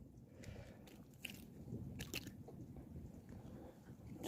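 Fried fish is chewed up close, with soft crunchy bites and wet, squishy mastication repeating in an uneven rhythm over a quiet background.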